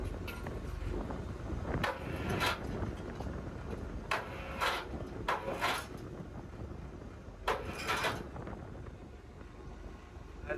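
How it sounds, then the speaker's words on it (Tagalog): Steady morning wind blows across an open outdoor spot at 6:25 a.m. beside water, a continuous rushing broadband noise with a few brief louder gusts or buffets, no voices. "Medyo mahangin-hangin lang dito, mahangin-hangin lang."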